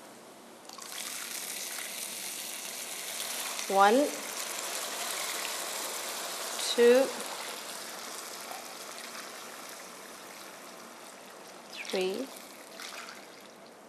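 Water trickles steadily into a cooking pot for rice, a continuous soft stream running throughout, while a voice counts aloud over it.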